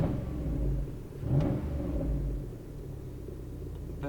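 A lifted 2006 Hummer H2 engine rumbles steadily nearby with a low, throaty idle, swelling briefly as if revved before settling back to a deep, continuous drone.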